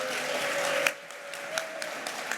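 Crowd at an event cheering and clapping, a dense wash of applause with scattered whoops that thins slightly after the first second, fairly loud and close with no speech over it.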